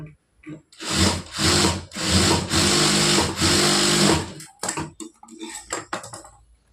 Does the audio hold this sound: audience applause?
no